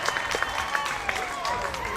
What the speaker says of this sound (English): And you're the hometown crowd appreciating.